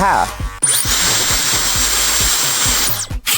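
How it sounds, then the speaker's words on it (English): An electric hair trimmer buzzes steadily and close during a men's French crop haircut, a continuous motor whine with rhythmic bumps as it passes over the head, stopping briefly at the end. "Start with the trimmer and create a baseline."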